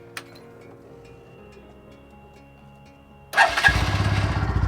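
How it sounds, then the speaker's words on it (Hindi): A Bajaj Pulsar NS 125 motorcycle engine cranks and catches on the first attempt after a quiet stretch, settling into a loud, steady idle close by. "अब स्टार्ट कर लेते हैं NS 125 को।"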